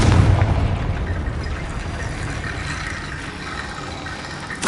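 A loud fiery blast from the Confringo fire spell in the Hogwarts Legacy video game, with a heavy booming onset followed by a sustained rumbling roar that fades slowly, then a brief fresh burst at the end.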